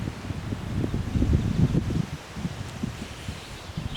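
A light outdoor breeze makes a soft, steady rustle and low rumble on the microphone, swelling briefly in the middle and then settling again, with no talk.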